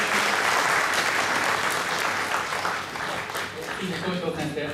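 Sustained applause from a crowd at a Japanese lion dance festival, steady and dense clapping throughout with a slight dip partway, voices faintly mixed in.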